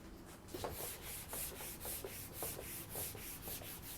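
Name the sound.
drawing a drill bit on a board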